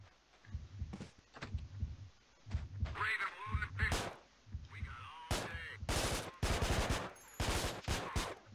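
Bursts of video game gunfire from Manhunt crackle in rapid volleys with low thumping pulses between, fairly loud and repeated, with a faint voice now and then.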